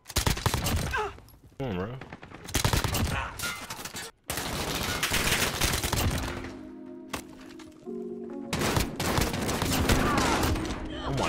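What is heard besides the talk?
UZI submachine gun firing in a shooter video game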